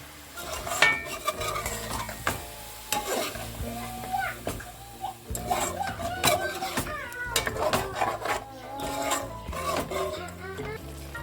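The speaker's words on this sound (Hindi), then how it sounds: "इसमें 4 बड़े चम्मच दही के ऐड करूँगी। और इन सबको हम अच्छे से मिक्स करेंगे।" Yogurt is stirred into a chicken biryani mixture with a spoon, giving repeated scraping and clinking strokes against the pot, fairly close and intermittent, while someone talks over it.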